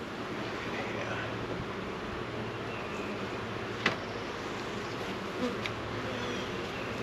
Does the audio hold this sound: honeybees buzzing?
yes